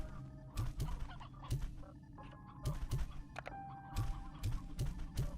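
Chickens clucking in the Slime Rancher 2 video game, repeated short low clucks in an irregular rhythm over a busy game soundscape with tones and clatter.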